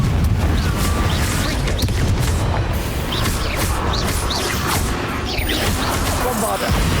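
A Confringo fire spell bursts amid a Hogwarts Legacy fight against Inferi, its blast blending into a busy, loud mix of whooshes, crashes and impacts with a voice calling out.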